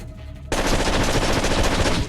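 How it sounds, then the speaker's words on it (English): Sustained automatic gunfire in the stealth video game Splinter Cell: Double Agent (PS2 version) erupts suddenly after a quiet half second, then rattles on loud and dense to the end with no voices. "They shot it."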